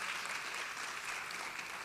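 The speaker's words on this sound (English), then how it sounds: "please, applause for Margaret Burroughs for sure" Sustained applause from an audience at a lecture on Black history in Chicago, a dense, even wash of clapping with no break across the whole stretch.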